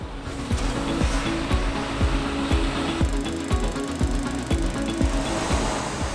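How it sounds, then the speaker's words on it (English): A Claas Xerion 5000 tractor rolling a grass silage clamp, with a loud continuous engine drone and steady rhythmic thumps repeating about twice a second throughout. "The Claas Xerion 5000 that we showed you pulling the slurry tanker in our first video in spring is now rolling the silage clamp."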